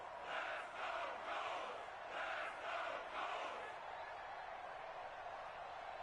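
A stadium crowd in a PS4 football video game roars steadily, swelling in rhythmic waves of cheering and chanting ahead of a big third down.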